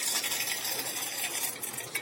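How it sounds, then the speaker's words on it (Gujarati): Mustard seeds dropped into hot oil to start a tempering for stuffed green chillies give a dense, steady crackling sizzle. It is close and continuous for about two seconds, with no voices. "સૌપ્રથમ થોડીક રાઈ ઉમેરી દઈએ"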